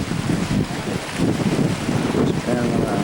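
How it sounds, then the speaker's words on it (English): Strong wind buffets the microphone beside Western Pond in Newfoundland, a continuous loud roar and rumble that never lets up, with gusts swelling and easing over a few seconds. "Windy."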